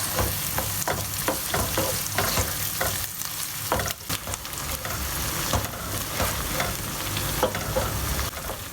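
Onions and tomato paste fry in olive oil for a Turkish okra dish, a dense steady sizzle with frequent rhythmic scraping and tapping of a spoon stirring the pan, close by, with no voices.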